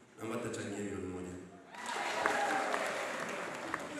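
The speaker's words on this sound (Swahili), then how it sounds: "Pigieni makofi mengi." A church fundraising service erupts in crowd applause after a short stretch of speech, with dense clapping rising suddenly and holding steady to the end.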